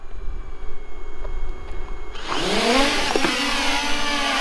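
A quadcopter drone loaded with an M67 grenade payload spins up at a frozen lake, quiet outdoor ambience giving way to a loud rising rotor whine and buzz that holds steady close by.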